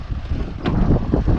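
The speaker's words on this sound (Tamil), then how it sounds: "இங்கே வெயில் இல்லைங்க சுத்தமாக, செம்ம காற்றடிக்குது." Strong wind at a viewpoint on Chinnakanal Gap Road, Munnar, buffets the microphone in a steady, loud, low roar with gusty swells throughout.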